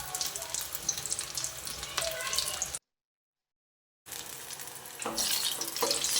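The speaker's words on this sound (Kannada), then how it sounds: "ಸೊ ಈ ಎಣ್ಣೆಗೆ ನಾವು ಬಜ್ಜಿ ಮೆಣಸಿನಕಾಯಿಯನ್ನು ಹಾಕೋಣ." Chili pepper bajji frying in fully heated oil, a steady close hiss and crackle of sizzling batter that briefly cuts out, then returns louder with bubbling bursts.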